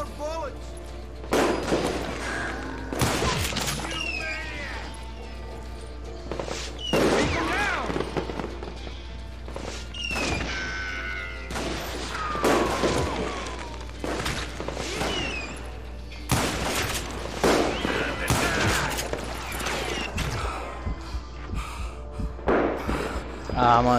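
Gunfire in the Western shooter Call of Juarez: Gunslinger comes as sharp separate shots and short bursts with thuds through the whole stretch, alongside game sounds.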